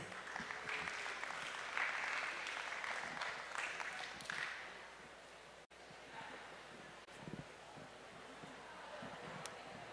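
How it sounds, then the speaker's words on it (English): An audience applauds at an FFA auctioneering contest final, a dense clapping burst that fades to scattered claps and room noise after about five seconds. "Please give a round of applause to Shannon Easton."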